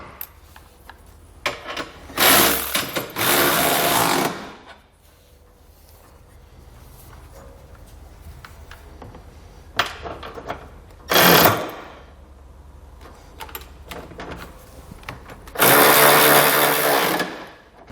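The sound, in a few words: socket tightening trailer hitch hardware on Mazda CX-5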